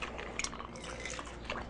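Liquid trickles from a half-full bottle into a martini glass as a bartender works bar-flair moves, a short, faint pour with light splashy drips.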